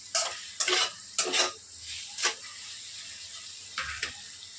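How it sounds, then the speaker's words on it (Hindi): Masala spices frying in a pan for dalcha, with a faint sizzle beneath several sharp bursts of a spoon stirring and scraping against the pan in an uneven rhythm, close and fairly clear. "अब हमें इसे 2 मिनट हो गया है, बिल्कुल मसाले को अच्छे से भूनते हुए।"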